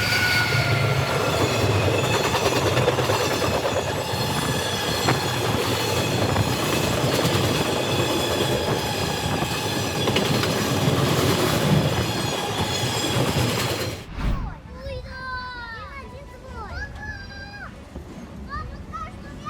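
A modern train rumbles loudly past at close range with rattling wheels and squeal, passing in front of the Flying Scotsman steam locomotive built in 1923; after the train clears, voices chatter in the background.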